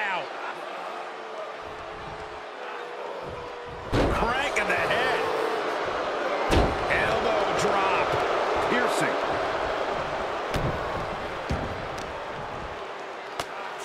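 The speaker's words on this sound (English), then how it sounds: "Shot after shot, then slamming their face down." Heavy slams and body impacts in a WWE 2K23 wrestling match between Ron Simmons and Iron Sheik, a couple of loud thuds standing out over steady arena crowd noise and ongoing commentary.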